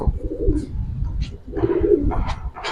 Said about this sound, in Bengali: কবুতর দেখেন